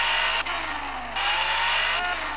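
Engine of a cartoon police car pulling away, revving in repeated climbing surges broken by short gaps like gear changes, loud and close with no talking.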